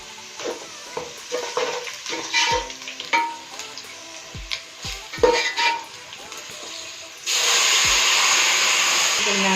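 Browned onions frying with white cumin, cinnamon, cardamom and black pepper in a pot for mixed vegetable rice: scattered metallic stirring knocks and scrapes, then a sudden loud, steady sizzle that holds to the end.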